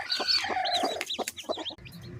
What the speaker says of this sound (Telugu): ఆ పిల్లలు ఇదిగోండి ఈ కోడి కింద దగ్గరకు వచ్చేసాయి అనమాట.